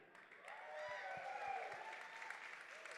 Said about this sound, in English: please give a warm welcome and a round of applause for our last chance qualifier 2 champion